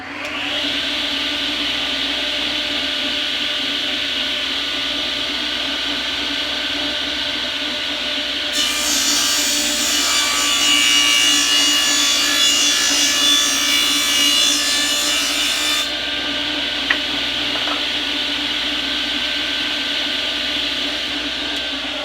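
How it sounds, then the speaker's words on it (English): Wood heels for cigar box guitar necks cut with a power saw, a loud continuous whine that grows harsher and brighter in the middle stretch as the blade bites into the wood, then eases back to a steady running hum. "And then I'm just going to cut them at this angle here, at the same angle as this."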